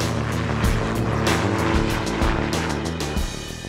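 A high-tech gyrocopter flies close by over England: a steady, loud droning engine and propeller buzz with a harmonic hum, sustained throughout with slight pulsing swells.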